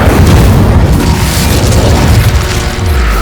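A fire spell cast in the Hogwarts Legacy video game: a loud, sustained booming blast with a dense low rumble that holds for several seconds.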